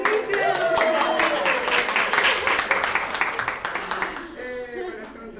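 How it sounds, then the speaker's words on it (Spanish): Audience clapping at an academic panel session on professional integration, a dense burst of many hands clapping steadily before tapering off near the end, with a faint voice and cheer mixed in. "¡Más palmas para Delicia!"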